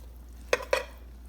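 Two quick metallic scrapes of a spoon stirring cheesy goulash in a pot, close and brief, against a quiet background.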